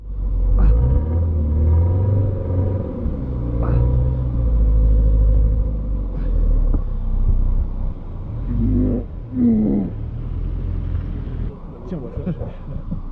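Tank engine rumbling deep and loud as its tracks slip, the heavy throb swelling and easing under occasional voices.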